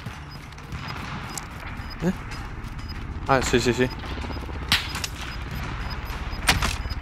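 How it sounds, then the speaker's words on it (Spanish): Gunfire in Call of Duty Modern Warfare 2019 comes as a few sharp, separate shots and short bursts at mid distance, under voice chat between players. "Oigo algún disparo"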